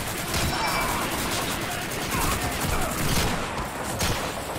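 Dense, continuous gunfire from the World War II shooter game Call of Duty 2, a loud sustained fusillade of rapid shots with faint voices underneath.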